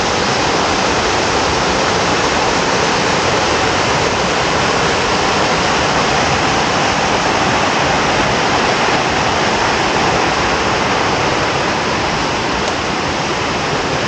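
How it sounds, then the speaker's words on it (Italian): The first of four drops of the Tuorno river waterfall near Calabritto in southern Italy roars loudly and without pause, a thick, unbroken rush of falling water close by, with no talk over it. "siamo al primo dei quattro salti della cascata del Tuorno"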